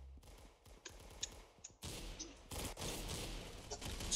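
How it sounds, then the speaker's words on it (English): Sniper fire in the Roblox shooter game Arsenal: several sharp, faint gunshots crack across a low, busy game background, spaced irregularly over a few seconds. "Jeez, I've been sniped."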